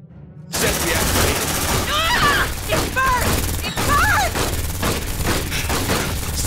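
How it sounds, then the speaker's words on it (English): Sentry gun in the Aliens: Dark Descent video game fires loud, sustained bursts close by, mixed with other gunfire, explosions and alien shrieks, with voices calling out over the chaos. "Deploying sentry gun."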